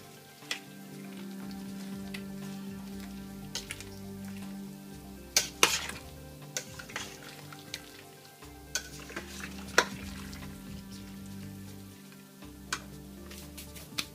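Kale is stirred into a pot of Zuppa Toscana soup, with a low simmering bubble underneath and scattered scraping and clinking knocks of the spoon against the pot.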